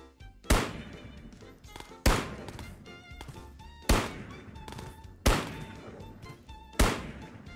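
Five loud, evenly spaced shotgun blasts in Ghosts of Tabor, each a sharp crack with a short decaying tail, spaced about one and a half seconds apart against quiet background.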